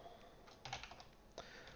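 Typing on a computer keyboard while an emulator loads, a steady run of quiet clicking keystrokes with a few louder taps, heard alone without talk.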